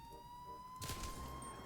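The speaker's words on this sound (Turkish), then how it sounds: "Bakın sireni duyunca yoldan çekiliyorlar arkadaşlar." A police siren in the video game GTA 5 starts abruptly partway through, loud and wailing over a steady in-game engine tone, following a quieter stretch of game ambience.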